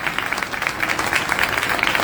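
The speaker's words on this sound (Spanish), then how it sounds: "Bernarda Sorente, que acá nos acompaña y pide un aplauso, que es una gran colega," Audience applause at a book fair presentation, a steady wash of clapping from a crowd that holds evenly for about two seconds at moderate level, with no talk over it.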